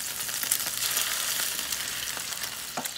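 A pork tenderloin sears in a hot pan with a broad, steady sizzle, near and fairly loud, with a few faint clinks toward the end and no speech.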